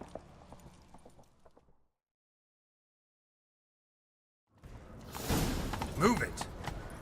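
Horses gallop in The Witcher 3 with hoofbeats under loud voices in the second half, after a stretch of total silence and some earlier game sound.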